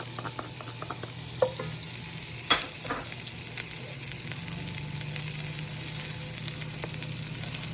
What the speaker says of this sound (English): the pan is nice and hot. Add the butter.